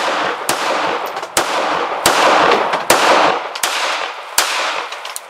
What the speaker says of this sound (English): let's show a shooting clip of this here Type 59